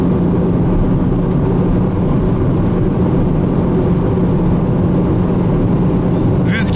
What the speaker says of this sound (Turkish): Rüzgar sesini duyabiliyorsunuzdur